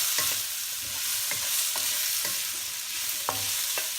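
Half-cooked pork belly frying in its own rendering fat for pancit bihon guisado, a steady close sizzle and crackle broken by several sharp stirring scrapes and taps, with no voices.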